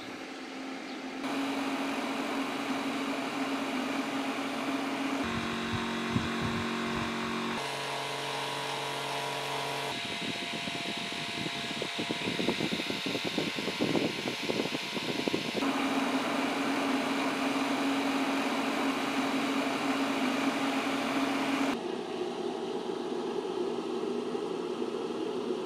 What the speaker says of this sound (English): This is a high-speed 12-volt computer case fan.